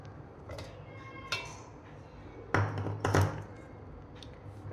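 Amla gooseberries drop into a blender jar as a few hard taps and thunks against the jar, with two louder clunks close together near the middle over a quiet background.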